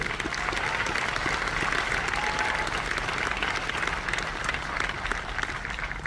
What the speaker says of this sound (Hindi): जोरदार तालियां इंडिया ग्रो के लिए।